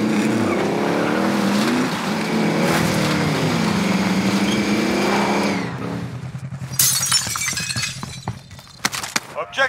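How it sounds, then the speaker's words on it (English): A vehicle driven in Call of Duty Warzone, a loud, close engine drone with shifting pitch for several seconds, then breaking into crashes, shattering impacts and rattling clatter near the end. "I'm driving."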